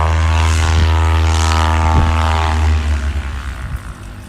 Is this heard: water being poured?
no